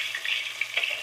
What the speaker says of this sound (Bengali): মাছটা হলুদ আর লবণ দিয়ে মাখাই নিছি, এখন মাছটা ভেজে নেব।